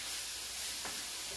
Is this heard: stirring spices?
yes